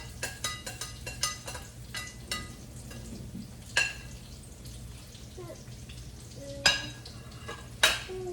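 Breakfast burrito filling being stirred as it cooks in a pan, soft sizzling with intermittent scrapes and clinks over a low background hum, fairly quiet and close.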